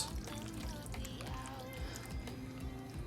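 Liquid pours out of a heavy pot in a steady, fairly quiet stream with gurgling and splashing, continuous under faint background hum; no clear speech.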